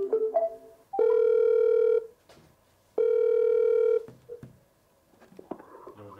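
A cheap AirPods-lookalike speaker with hands-free calling plays two long, loud ringback tones, each about a second and spaced two seconds apart, with faint handling noises between and after them.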